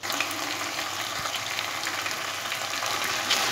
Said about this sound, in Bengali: এইবারে আমি মশলাটা দু মিনিটের মতো একটু ফ্রাই করব